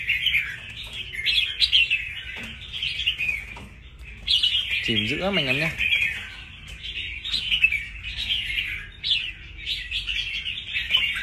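A red-whiskered bulbul, one of a pair caught in the wild, sings repeated bright chirping phrases close by, with a voice speaking briefly in the middle.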